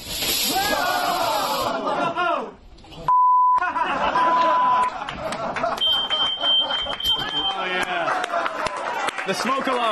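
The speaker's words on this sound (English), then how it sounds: "The smoke alarm. Sure sign of a rocket success." A smoke alarm goes off after a bacon-powered rocket launch in a TV studio, giving a loud, shrill, sustained beep under excited voices and laughter, with a brief pause and another shorter tone.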